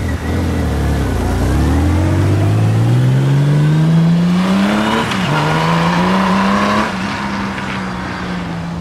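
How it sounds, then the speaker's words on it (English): Honda Goldwing GL1800 motorcycle with exhaust plugs installed riding past, engine drone rising steadily in pitch as it accelerates, loud and close, then easing off as it moves away. "Here's a drive-by test. All plugs are in."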